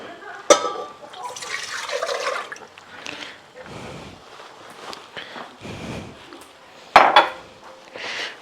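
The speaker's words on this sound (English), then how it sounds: "In this pan, we're going to pour in milk." Milk poured into a pan for homemade mac and cheese, a short liquid splash among clattering pots and cutlery, with sharp metallic knocks and a voice talking in between.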